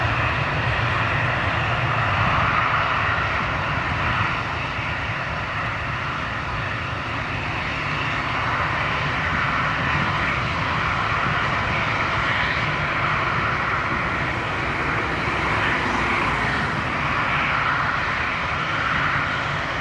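Airliner engines roar in a steady, loud, continuous drone during landing at Lisbon airport, close to the runway, holding a broad, unbroken rumble with a tonal whine throughout and no voices.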